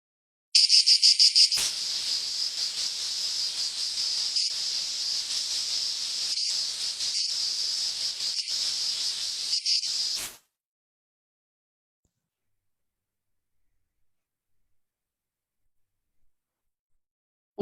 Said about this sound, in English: And that sound belongs to the cicada.